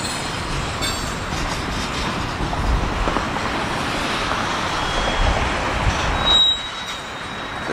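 A long freight train of tank and sulfur cars rolls steadily past near the track, heavy continuous rumble with clanking wheels and a thin high squeal near the end.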